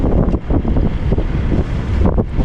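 Gusty wind buffets the microphone in heavy, rumbling bursts at sea off Corsica between Calvi and Girolata, with a hint of open water and boat noise underneath.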